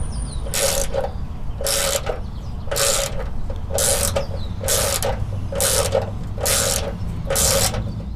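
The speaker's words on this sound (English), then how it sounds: "he's going to get on there with a 1/4-inch ratchet and thread it all the way through." A 1/4-inch ratchet drives a thread restorer through a bolt hole for a rock slider install, giving eight evenly spaced bursts of crisp clicking, each followed by a short pause, close and clear.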